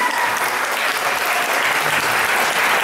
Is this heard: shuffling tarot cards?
no